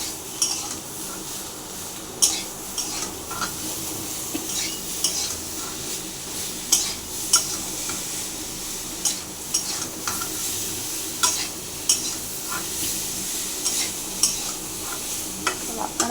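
Eggplant and potato curry stirred in hot oil in a pan, a steady close sizzle broken by repeated scraping clinks of the spoon against the metal, no talk.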